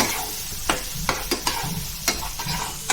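Egg goes into a spiced pan for double masala egg bhurji. It sizzles steadily at close range while a spatula scrapes and taps the pan in several sharp strokes.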